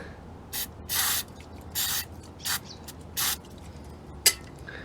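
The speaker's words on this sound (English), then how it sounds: "I'll just spray a bit on." Several short hissing bursts of cleaner sprayed onto an Audi 3.2 throttle body, uneven in length and spacing, close by against a quiet background, with a faint click near the end.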